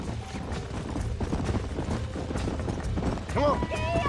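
Horses' hooves clip-clop at a run in the Red Dead Redemption video game, a steady busy patter with a brief whinny near the end, mixed with game sound.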